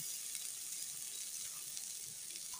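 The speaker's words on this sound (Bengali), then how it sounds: "লবণ আর হলুদটা দিয়ে ভালোভাবে ভেজে নিচ্ছি।" Turmeric and salt frying in a pan with brinjal whose liquid has cooked off, a faint, even sizzle and hiss held steadily throughout with no voices.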